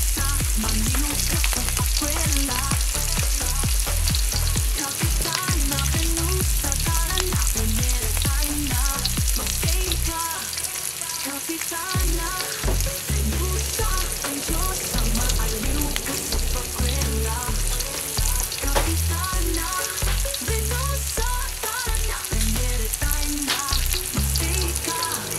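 Onions fry in a pan for adobong native chicken, a loud continuous sizzle with occasional stirring scrapes, running the whole time under a melodic backing.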